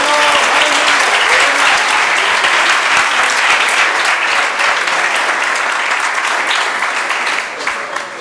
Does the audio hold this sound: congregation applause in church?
yes